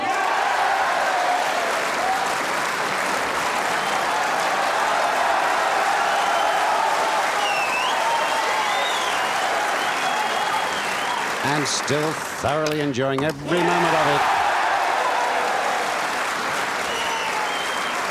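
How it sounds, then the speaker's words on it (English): A packed Crucible crowd at the 1986 World Snooker Championship final applauds loudly and continuously, and a commentator speaks over the clapping partway through. "The crowd here at the Crucible are going mad for Bradford's Joe Johnson."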